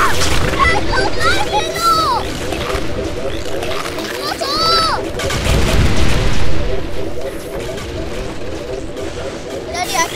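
Repeated shooting and impact bursts from the video game McDROID, with rhythmic weapon fire and game effects throughout, while a child and an adult talk over the action.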